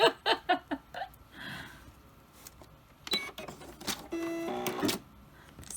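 A home embroidery machine stitches in quick clattering bursts of needle strikes, with pauses between runs and a steadier mechanical whir near the end, close and fairly quiet.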